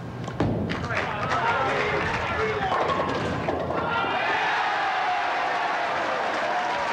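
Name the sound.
bowling ball striking pins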